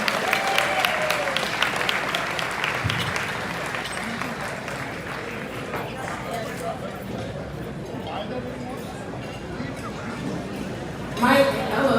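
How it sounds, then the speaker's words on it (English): Applause and crowd noise from a dinner audience at a business awards gala, a broad steady wash of clapping and chatter that continues throughout, with a brief louder swell near the end. "Can we get a round of applause once again for Freddie Croya?"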